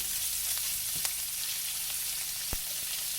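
Southern cabbage fries in a heavy kettle, giving a dense, constant sizzle and crackle up close. A couple of sharp clicks from a stirring utensil sound briefly, and no one speaks.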